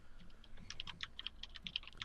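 Rapid clicky keystrokes on a mechanical computer keyboard, a fairly even run of sharp taps close to the microphone with no talk over them.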